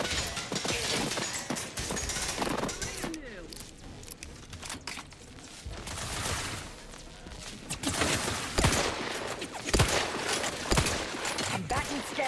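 Gunfire crackles in The Outer Worlds 2, with repeated sharp shots and bursts scattered across a busy battle mix, alongside talking.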